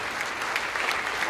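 An audience at a commercial real estate forecast talk claps steadily, a dense even patter of many hands with no voices over it.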